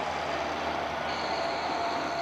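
Relentless pulling truck rolling in at a truck and tractor pull in Milledgeville, a steady heavy engine drone with a sustained high whine, loud and close, with no talk over it.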